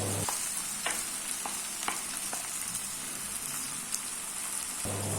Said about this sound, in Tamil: இந்த டைமில் நம்ம மசிச்சு வச்சுருக்க உருளைக்கிழங்கு உள்ளார சேர்த்துக்கலாம்